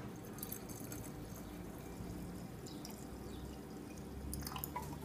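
Salt brine poured from a container into a jar packed with cabbage, a steady close trickle and splash of liquid with soft drips, heard alone without talk.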